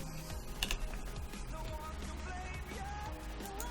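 Keyboard shortcuts tapped on a computer keyboard during 3D modeling work in Blender, giving a few scattered, fairly soft key clicks over a steady background hum with no talking.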